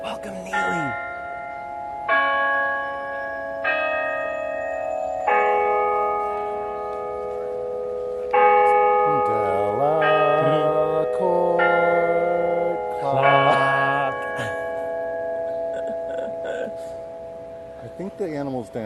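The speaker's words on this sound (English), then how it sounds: "Oh, look at the monkeys at the top. They're hitting the bell." Clock bells in Central Park's Children's District struck by mechanical monkey figures, ringing out as a steady, resonant melody of sustained tones over nearly twenty seconds, with people talking quietly underneath.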